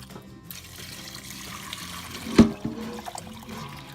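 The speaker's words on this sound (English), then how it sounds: "the simmering liquid is cool enough to pour in the bowl" Cooled pickling liquid for watermelon rinds is poured into a glass bowl, trickling and splashing steadily at close range, with a sharp clink or splash midway.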